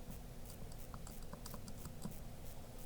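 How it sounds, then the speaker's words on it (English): Fingers tap out numbers on a calculator's keys in quick, light, irregular clicks, close and fairly quiet over a steady low background hum, with no one speaking. "Typing this in on the calculator"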